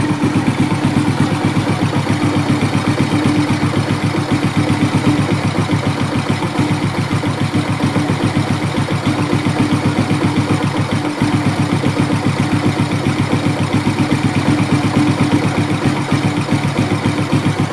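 A Suzuki Smash motorcycle engine idles close by with a steady, rapid low putter that holds evenly throughout, with no talking.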